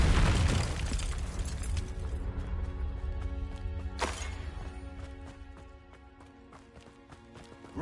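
A Confringo blasting spell erupts in a Harry Potter video game, a loud boom at the start that decays into a long ringing tail, with a second, smaller burst midway.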